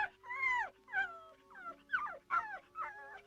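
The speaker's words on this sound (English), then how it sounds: "No, do stop barking, Pom-Pom." Cartoon dog Pom-Pom from the 1959 puppet series Torchy the Battery Boy, giving a series of about seven high, whining yips and whimpering barks in a rhythmic sequence, close and clear with no talking.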